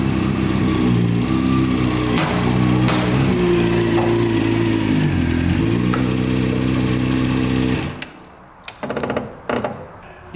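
A motorcycle eased slowly in first gear onto a dyno, its engine a loud steady low idle-like rumble with a few revs, then cutting off near the end, leaving brief clunks and knocks.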